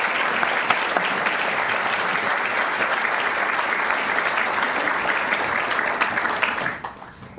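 A lecture audience gives steady, loud applause to welcome speaker Dr. Larry Arnn. The dense clapping holds evenly for about seven seconds, then fades out quickly at the end.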